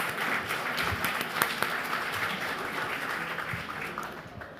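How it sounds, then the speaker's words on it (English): Steady applause from a conference audience welcoming guests onto a stage, many hands clapping at moderate loudness from across the room with slightly distant, roomy character, tapering a little at the end. "Can we please give them a big round of applause?"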